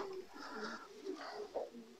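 Pigeons cooing softly in a loft, a few brief low coos in quick succession, faint and close.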